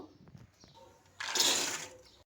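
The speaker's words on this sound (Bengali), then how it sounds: "জল দিয়ে দিচ্ছি।" Water pours into a cooking pot of peas and potatoes set to boil for street-style ghugni, a brief rushing splash of just under a second that rises sharply and tails off, close to the listener.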